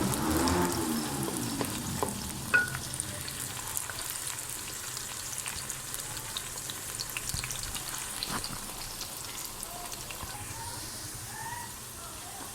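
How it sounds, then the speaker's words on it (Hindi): Okra frying in hot oil gives a continuous close sizzle and crackle, with a few stirring sounds early on. "हमने उसके अंदर भिंडी डाल ली है। अब इसको हम फ्राई करेंगे"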